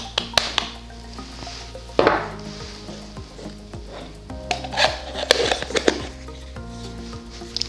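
Coffee is stirred in an AeroPress, giving close, repeated scraping and clinking strokes against the chamber with brief sharp knocks, loud and uneven in rhythm.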